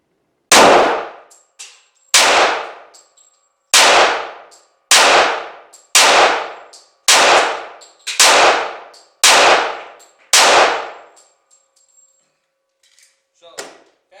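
Caspian 1911 pistol firing factory ammunition on a range: eight loud, evenly spaced shots about a second apart, each with a sharp crack and a ringing decay, then a few faint metallic clinks.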